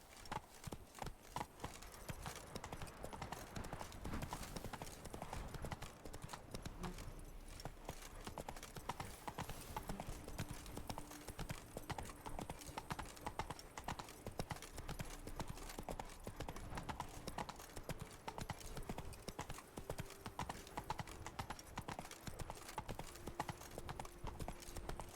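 Roach the horse trots steadily in The Witcher 3 video game, a dense, continuous clip-clop of hooves filling the whole stretch at a constant loud level, with a faint steady tone underneath and no clear talk.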